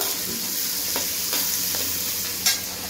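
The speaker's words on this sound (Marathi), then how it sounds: "मिरची टाकल्यावर थोडं परत हलवायचं" Green chillies fried in hot oil and stirred in a pan, a continuous close sizzle with a few soft scraping strokes and a sharper clink near the end, with no talking heard.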